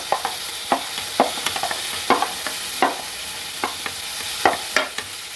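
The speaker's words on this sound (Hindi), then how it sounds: "अब साथ में ही मैं बीन्स भी डाल रही हूँ" Beans are tossed into a hot pan and stir-fried with vegetables for egg fried rice, giving a steady sizzle punctuated by a regular series of sharp scraping spatula strokes, close and distinct.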